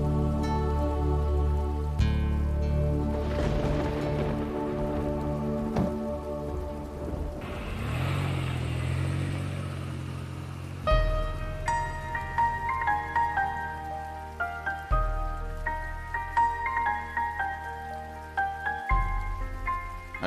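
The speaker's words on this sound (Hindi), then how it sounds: "बारिश शुरू होगी" Steady rain falling in a TV drama scene, a continuous hiss beneath a swelling music score, with a brief louder burst of rain noise midway.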